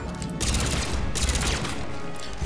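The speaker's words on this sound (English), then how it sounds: "Might want to use a submachine gun to take down the shields." Rapid submachine gun fire in the video game Mass Effect 3, dense bursts of crackling shots in quick succession with brief gaps between volleys, loud and close throughout.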